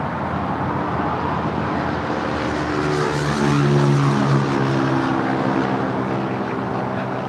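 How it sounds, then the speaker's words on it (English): A Spirit Airlines Airbus A320neo departing LAX for Columbus, a loud sustained engine roar with droning, shifting tones that peaks midway and stays strong. "This is Spirit Airlines Flight 888 departing to Columbus."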